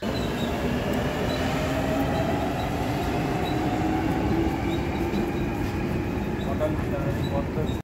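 A London train rolls along with a constant, heavy rumble and rattle of wheels and carriages, close and loud for the whole stretch, with faint squealing tones above.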